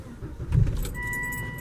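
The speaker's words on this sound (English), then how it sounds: "So if I turn the car on right now" Volvo S60 2.5T sedan being switched on from inside the cabin, a brief low thump followed by a steady electronic chime tone that keeps sounding, close and moderately loud.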